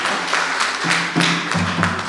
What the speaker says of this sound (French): Ce n'est pas les acclamations des gens qui sont convaincus là